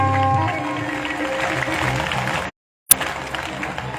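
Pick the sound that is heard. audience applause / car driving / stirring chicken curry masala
audience applause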